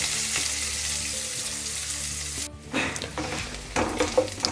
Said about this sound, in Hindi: प्याज को अच्छे से हम इसका कलर चेंज होने तक फ्राई करेंगे